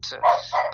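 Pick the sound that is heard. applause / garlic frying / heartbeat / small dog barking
small dog barking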